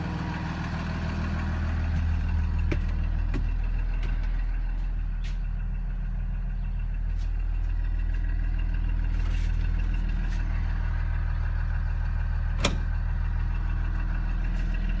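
A 2016 BlueBird Vision school bus, recently fitted with new exhaust work, idles steadily with a deep low rumble and a few faint knocks and clicks on top, no talking.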